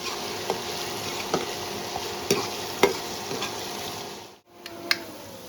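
Onions frying with garlic-ginger paste for baingan yakhni, sizzling steadily in the pan while a spoon scrapes and stirs in periodic clinks, then a brief pause before stirring resumes.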